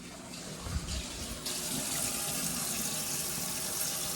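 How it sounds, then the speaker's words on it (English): Tap water runs steadily into a kitchen sink while hands are washed beneath it, a constant, fairly faint hiss with slight splashing changes and no talking. "This is how you wash your hands"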